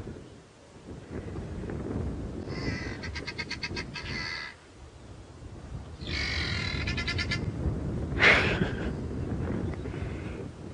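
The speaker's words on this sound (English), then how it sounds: "You can hear the guinea fowls not terribly happy with the presence of so many big cats" Guinea fowl give harsh, rapid rattling alarm calls in three bursts against steady wind and bush noise at a sunrise safari with big cats nearby, moderately distant and without talk.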